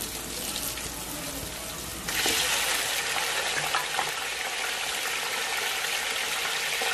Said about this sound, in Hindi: अब हमें इस तेल में गोश्त को फ्राई करना है